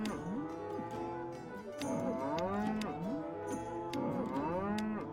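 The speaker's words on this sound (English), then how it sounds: "Nice cow sound." Cattle moo in the Capitalism Lab business simulation game, several long, drawn-out lowing calls that swoop up and down in pitch, one after another, loud and close with no talk.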